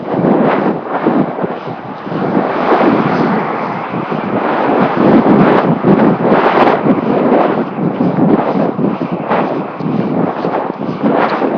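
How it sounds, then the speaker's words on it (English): Heavy, gusting wind buffets the microphone continuously while riding an ElliptiGO downhill, a loud rough rushing roar with no clear voices. "Okay, we're going downhill. It's going to get kind of windy,"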